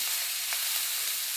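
Tomatoes, coriander and curry leaves sautéing in a pan, a steady close hiss of sizzling with a faint stir partway through, no voices.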